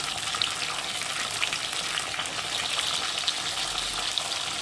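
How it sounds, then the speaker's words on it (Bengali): A spice paste of garlic, cumin, ginger, onion, green chili, tomato and turmeric fries in a pan for a fish curry, producing a steady, moderately loud crackling sizzle with light stirring. "হলুদ গুঁড়ো আর অল্প করে লঙ্কা দিয়ে মশলাটা ভালোভাবে কষিয়ে নেব"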